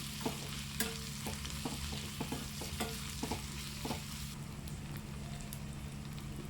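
Bitter gourd frying in a pan, a steady oily sizzle under a run of sharp, evenly spaced scraping clicks from stirring with a spoon, close and alone.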